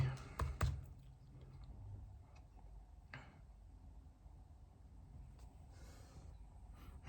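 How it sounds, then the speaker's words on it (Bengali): An email address being typed on a computer keyboard, with a few sharp key clicks and quieter tapping spread over several seconds, faint against low room noise. "আমি আমার ইমেলটি লিখি"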